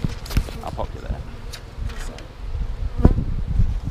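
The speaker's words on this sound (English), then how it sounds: "Just shake these bees into the top, so they're on the correct side of the newspaper" Honey bees shaken from a frame into the top of a hive above a newspaper sheet while two hives are combined, a close buzzing drone with a few soft thumps and knocks, and a person talking over it.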